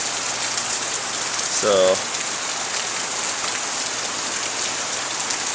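Monsoon rain pounds a driveway in Lakeside, Arizona, a steady dense hiss of heavy rainfall throughout, with one brief spoken word near the start.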